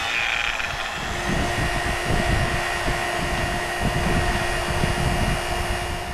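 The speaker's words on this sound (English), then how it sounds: "it's time to pump the vacuum onto this system" A loud, steady mechanical drone runs throughout, a vacuum pump evacuating a car's R-1234yf air conditioning system, its constant motor whine and rumble with no pauses and no voices.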